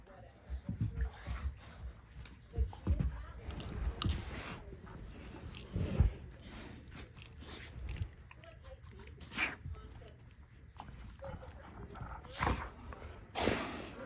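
A dog eating cake close by, with wet chewing, licking and snuffling in scattered bursts, while a person talks softly at times.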